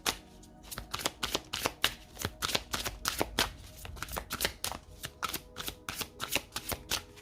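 Tarot cards are shuffled briskly and steadily close by, a rapid run of crisp, evenly spaced flicks and riffles that continues without pause.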